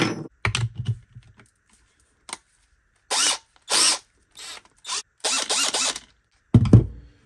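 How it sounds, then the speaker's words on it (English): A power drill whirs in several short, loud bursts separated by pauses, with a few clicks and taps between runs. "Right, let's get me drill."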